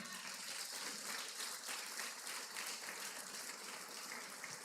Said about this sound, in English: Clap the man.